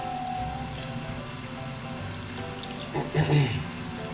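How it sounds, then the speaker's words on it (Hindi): Water drips and trickles as boiled moringa is squeezed by hand while cooking beef keema, a soft splashing that swells briefly toward the end over faint background sounds. "ये देखिए नाज़रीन, इसको ऐसे करके ये इसमें से पानी निकल रहा है"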